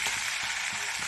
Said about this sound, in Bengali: খুব হালকা হাতে ভাজতে হবে মাছগুলি